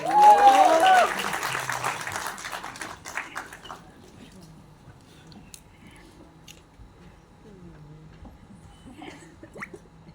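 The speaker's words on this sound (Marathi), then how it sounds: "जोरदार टाळ्या त्यांच्यासाठी वाजवूयात." Audience applause at a Marathi film trailer launch, a burst of clapping at the start that fades out within a few seconds, followed by quiet room tone and faint scattered sounds.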